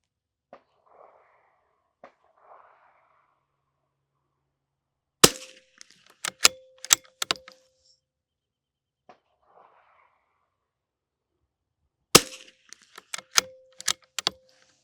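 Rifle shots fired on a shooting range using Eley long range rimfire ammunition: two clusters of several sharp, loud cracks spaced apart, with quiet gaps and faint handling noises between them.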